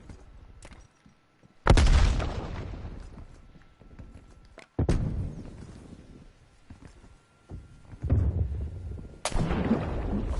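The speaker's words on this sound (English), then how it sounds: "Throwing frag grenade." Frag grenade explosions in a video game hit as several loud, booming blasts with long rumbling decays, spaced a few seconds apart amid quieter gunfire and battle noise.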